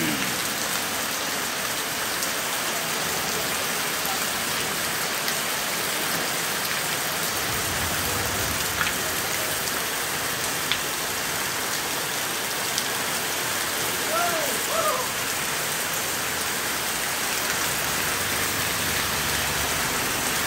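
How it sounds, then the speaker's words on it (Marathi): Heavy unseasonal rain pours down steadily during a thunderstorm with lightning, a dense, even hiss of drops on surfaces lasting throughout without pause. "आज पावसानं जोर धरला ना, बराच वेळ झाला ना पाऊस"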